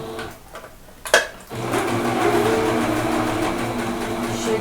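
Sewing machine stitching fabric for a handbag insert, a steady mechanical whir that starts after a brief pause and a short clack, running loud and continuous close by.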